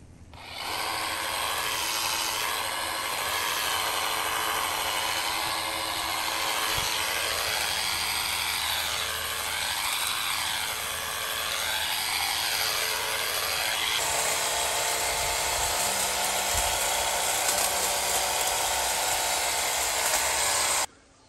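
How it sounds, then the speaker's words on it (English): Husqvarna battery-powered telescopic hedge trimmer cutting through a large ball-shaped hedge, a steady loud buzzing motor with rustling, snapping foliage running continuously at close range, with no talking. "We're going to be using the Husqvarna battery extender telescopic hedger."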